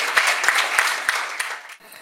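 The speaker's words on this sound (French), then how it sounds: "Sous vos applaudissements," An audience breaks into applause at a ceremony honoring top students, a brief burst of clapping with distinct sharp claps standing out, tapering off near the end.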